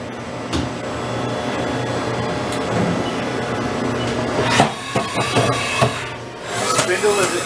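A 2011 Haas VF-4 vertical machining center with a 10,000 RPM spindle and air blast runs its cycle, giving a steady mechanical whir and hum with clanks and knocks near the end, heard up close with a voice speaking briefly.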